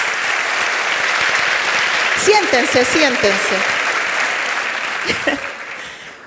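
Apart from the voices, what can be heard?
audience applause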